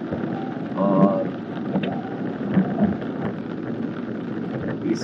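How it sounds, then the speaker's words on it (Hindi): Rain falls steadily with low rumbles of thunder on a Himalayan road trip between Tso Moriri and Kargil, a continuous wash of sound that swells briefly near the start. "कि बारिश हो रहा है"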